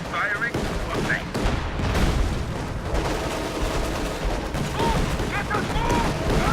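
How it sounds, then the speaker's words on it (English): Artillery fire from 105mm LEFG 18 howitzers in Company of Heroes 2, a dense, sustained barrage of overlapping booms and gunfire with shouting voices over the battle din. "LEFG 18 howitzers stand ready to fire. 105mm artillery firing for length."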